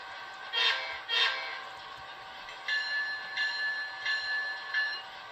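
A model train whistle fired from a TCS UWT-100 wifi throttle running an ESU Ecos system: two brief breathy bursts, then four short, clear tonal toots in an even rhythm, fairly close and alone.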